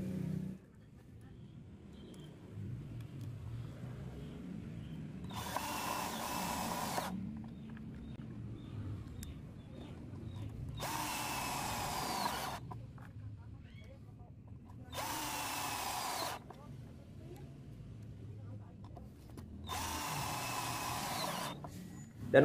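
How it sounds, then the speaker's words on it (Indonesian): A cordless Minlea power drill driving roofing screws whirs in several loud bursts of a few seconds each, separated by pauses with quieter background noise. "sekarang saya akan coba tes bor dari Minlab ini. Dan yang pertama saya akan coba pengeboran dengan baut rumping ya,"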